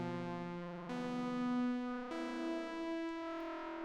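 A sustained, chord-like tone from the Nymphs 'Wait For It' sample played in Indecent Sampler, in three held swells that shift pitch at each change, with a slightly distorted, effected texture and no talk.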